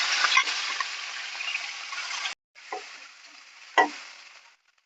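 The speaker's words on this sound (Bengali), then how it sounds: "তেল গরম হয়ে গেছে, চিংড়ি মাছগুলো ভেজে নেব।" Prawns fry in hot mustard oil in a kadai, a loud bright sizzle that cuts out briefly, then resumes with a couple of sharp spatters and stirring knocks before fading.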